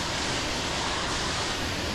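A waterfall rushes at night, a loud, unbroken broadband roar of falling water that stays steady and close throughout.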